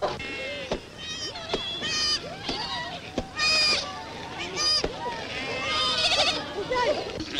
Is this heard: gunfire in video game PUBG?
no